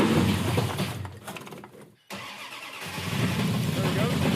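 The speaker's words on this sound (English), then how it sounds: "Hit the ignition, press the button," A Coronet car engine cranks, dips to a brief near-silence, then fires and settles into a loud, steady idle, with a voice speaking over the start.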